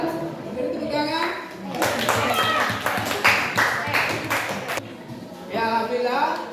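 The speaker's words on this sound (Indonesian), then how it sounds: "Beri tepuk tangan." A classroom of children claps together in a burst of applause lasting a few seconds, with kids' voices chattering before and after.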